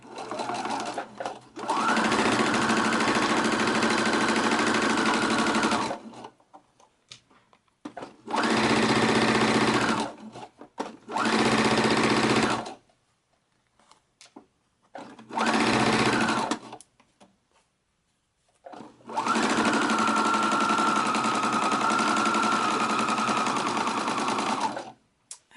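A sewing machine stitches a quarter-inch seam along the edge of a fabric placemat, running in steady, loud bursts of several seconds each, separated by short pauses.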